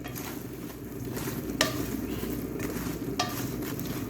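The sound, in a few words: bread pieces being stirred into melted sugar in a pan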